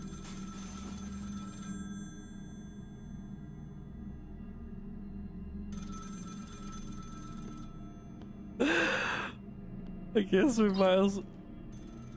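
A telephone rings in the video game Find Yourself, a trilling bell in repeated bursts separated by pauses, fairly clear against quiet background hum, with someone speaking briefly near the end.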